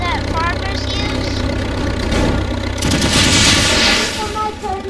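Bursts of weapon fire from a vehicle-mounted gun in the voxel game Teardown, shot at a house, rattle over a steady engine idle, with crackling debris and a voice talking along.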